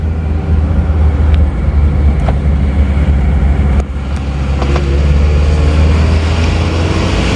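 An Isuzu Panther diesel with its thermostat removed and sluggish pull runs loud and steady with a deep low drone, engine note rising slightly under throttle throughout, heard close with no talking.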